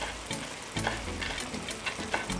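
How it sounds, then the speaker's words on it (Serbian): Vegetables frying in a pan give off a continuous close sizzle and crackle, with a few soft scrapes of stirring scattered through, while no one speaks. "Dok se povrće prži"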